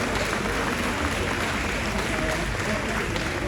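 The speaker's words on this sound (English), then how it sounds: "Give them a round of applause." Applause from a large crowd at a celebration of Jimmy Cliff's life, a thick continuous roar of clapping and crowd noise, loud and unbroken throughout.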